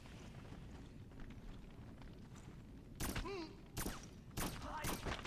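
Gunfire from a firefight in the shooter Black comes in several sharp, loud bursts over the final two seconds, preceded by a low, windy background rumble.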